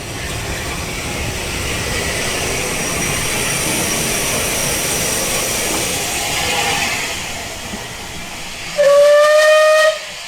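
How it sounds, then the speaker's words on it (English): Steam locomotive 257 Squadron arriving at a heritage railway winter steam gala, a steady hiss of steam rolling on for several seconds before a loud, clear whistle blast near the end. "the last train of the day is 257 Squadron. Yes. And it'll be arriving any minute now"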